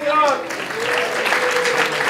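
Brisk applause at a student tech demo event fills the room, with a voice briefly rising over the clapping at the start.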